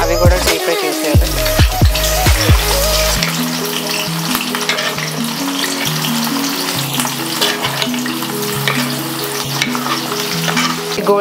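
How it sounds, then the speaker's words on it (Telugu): Sliced onions deep frying in hot oil for Hyderabadi dum biryani, a loud, steady sizzle and bubbling throughout with occasional stirring clatter near the start. "ఇప్పుడు అదే ఆయిల్లో మనం ఇలా కట్ చేసుకున్నాం కదండి, అవి కూడా డీప్ ఫ్రై చేసేయాలి."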